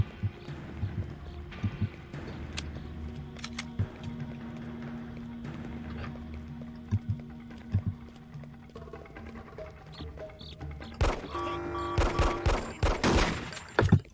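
Gunfire, including shotgun blasts, breaks out during a restaurant ambush in the Hitman Codename 47 video game. Scattered sharp shots over a quiet game background build into dense, rapid volleys near the end.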